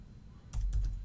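Brief burst of typing on a computer keyboard, a handful of quick close key clicks after a short quiet pause, heard alone with no voices.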